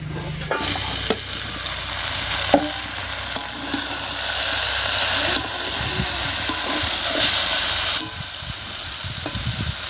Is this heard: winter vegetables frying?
yes